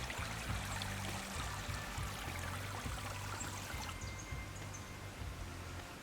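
A stream runs steadily at a winter campsite in Alabama, a continuous broadband gurgle and trickle of water flowing over rocks, fairly close and unbroken throughout, with no voices.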